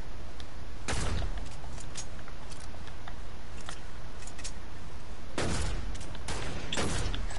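Scattered gunshots in a video game shootout: a sharp close shot early, then a cluster of several loud reports near the end, separated by steady background hiss.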